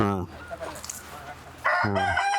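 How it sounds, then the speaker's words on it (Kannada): A rooster of the Erode breed crows loudly twice at a large chicken market. The first call is cut short at the start, and a fuller crow follows after a brief pause filled with market noise. "ಇದು ಈರೋಡ್ ಕೋಳಿ."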